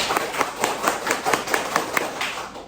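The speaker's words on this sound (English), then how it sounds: "Everybody clap your hands." A classroom of students claps their hands about ten times, giving a steady series of soft, evenly spaced claps at moderate distance.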